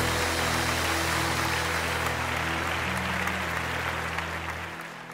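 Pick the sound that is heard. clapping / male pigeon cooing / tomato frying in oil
clapping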